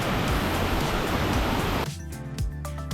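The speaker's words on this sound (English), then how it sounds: "FIJI Waterfall, with its 40-meter height, is one of the largest waterfalls in Bali, featuring 3 streams of water, making it a triple waterfall" Fiji Waterfall, a 40-metre triple waterfall in North Bali, gives a dense, steady roar of falling water up close. Midway the rush grows quieter and thinner, leaving a softer splashing wash.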